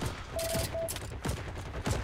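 Rifle shots from a Gewehr 43 in the World War II shooter game Heroes & Generals, a few sharp cracks spaced across a busy battle background with other gunfire.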